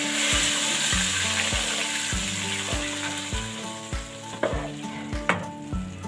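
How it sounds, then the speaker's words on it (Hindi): Hot oil with browned cumin sizzles vigorously as the tempering hits the kadhi, a continuous crackling hiss punctuated by regular knocks and clinks of a utensil against the pot, close and loud. "अब मैं इससे कड़ी में तड़का लगाऊंगी"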